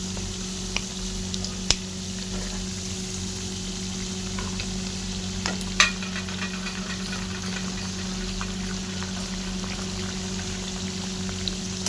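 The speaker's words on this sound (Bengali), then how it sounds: "ভালো করে ভেজে নেব" Chana dal frying with curry leaves and green chilies in hot oil, a steady even sizzle running throughout with a few sharp pops and ticks, no voices.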